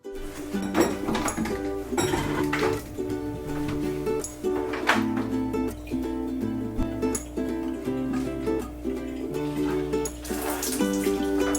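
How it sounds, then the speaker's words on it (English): Water pouring steadily into a home aquarium tank during a water change, a continuous splashing gurgle with faint clinks and background music underneath, close and even throughout. "I'm going to go ahead and do a water change in this tank"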